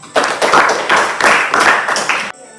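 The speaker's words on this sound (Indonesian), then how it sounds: "Tepuk tangan." Classroom students clap their hands together in a loud, continuous rhythmic patter for about two seconds, then stop abruptly.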